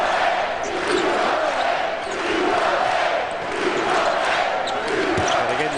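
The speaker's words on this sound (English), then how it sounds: "And again, you hear the crowd." Arena crowd at a college basketball game, Kansas at Arizona, a loud, constant roar of cheering with ball bounces and squeaks beneath, and a commentator talking over it.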